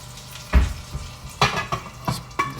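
A ribeye steak searing in butter in a frying pan with a lid partly on, giving a low steady sizzle broken by a few clanking knocks of lid and pan.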